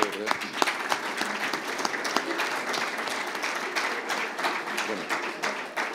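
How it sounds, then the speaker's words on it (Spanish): Audience applause for a speaker at a Spanish roads conference session on pavement rehabilitation, a steady dense clapping that fills the whole stretch at a consistent level, with a faint voice under it. "te, despedimos eh, con un aplauso"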